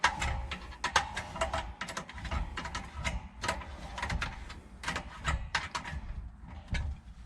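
Satellite dish bolt being tightened with a 7/16 wrench, a close series of sharp metallic clicks and ratcheting taps in uneven bursts over a rustling background.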